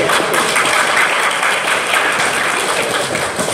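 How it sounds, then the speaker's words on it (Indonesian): Audience applause at a Java developer community meetup in Indonesia, a steady, dense wash of clapping hands filling the room for the full stretch without a break. "Tolong tepuk tangannya buat Mas Yudi"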